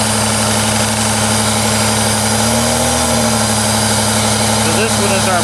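A car engine idles with an uneven, stumbling rhythm from a misfiring center cylinder on one bank, a steady low rumble that wavers, heard up close.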